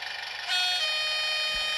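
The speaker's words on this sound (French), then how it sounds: "Une pression sur F1 et le moteur se met en marche." A VH Mistral model railcar with DCC sound starts its motor: a soft lead-in, then a steady tonal engine hum that swells at about half a second and runs on evenly at low volume.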